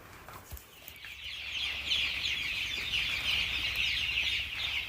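Chickens cluck continuously inside a farm chicken shed, a dense, steady flock chorus at moderate loudness with no talking over it.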